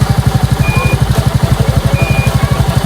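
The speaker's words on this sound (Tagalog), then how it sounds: "Suzuki 115 2018 model Suzuki Smash okay ba mga pakinggan yung andar niya" 2018 Suzuki Smash 115 motorcycle engine running at idle close by, a loud, steady, rapid thumping pulse with light mechanical clatter and no talk.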